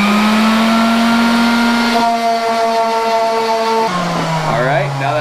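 A power sander runs steadily during work on a Rocket Bunny widebody kit for a Scion tC, giving off a loud, even motor whine whose pitch rises and then drops.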